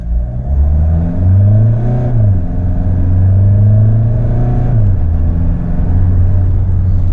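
A Mahindra XUV700 accelerates at full throttle. The engine drone rises in pitch, drops at each gear shift and climbs again, loud and close, with no voices over it.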